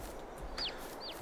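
Two short, high chicken clucks in the video game Farming Simulator 22, close but soft, over a steady low background hum with no talking.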